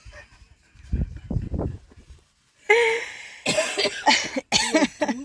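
A woman coughs a few times close by, sharp throaty bursts in quick succession, followed after a short pause by louder harsh, raspy bursts that sound like further coughing or throat clearing, with no talking.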